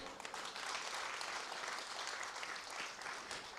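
Applause from a seated audience at a women's leadership conference, a steady even wash of clapping held throughout at a moderate distance, fairly soft.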